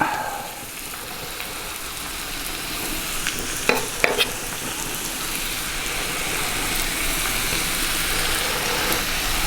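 Steady sizzle and crackle of food frying in a Dutch oven on a Kamado grill, with a few sharp clinks of a utensil stirring partway through.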